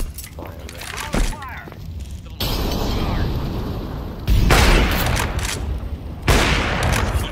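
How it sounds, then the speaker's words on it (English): A flashbang grenade in Counter-Strike goes off with a sudden loud blast. Heavy broadband bursts follow, rising and cutting off in blocks, with a thin high ringing tone lingering after the bang and voices speaking around it. "I'm gonna flash CT. Throwing a flashbang."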